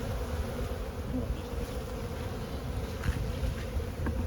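Dense, continuous buzzing of many bees swarming close by at an opened hive being smoked, a steady droning hum with no voices.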